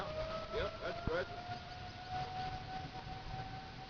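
An outdoor warning siren wails steadily in the distance during a tornadic thunderstorm, its long tone holding beneath rumbling wind and background noise, with brief voices and a sharp knock near the start.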